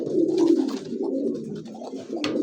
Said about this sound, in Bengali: দেখতে পাচ্ছেন স্ক্রিনে 2 কবুতর, একদমই বিশাল সাইজের